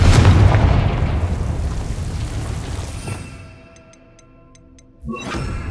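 A Confringo spell goes off in Hogwarts Legacy as a loud, booming explosion that fades over several seconds. A fainter blast follows near the end.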